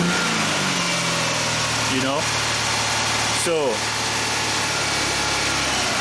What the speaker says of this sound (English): I'm gonna increase the engine RPM again.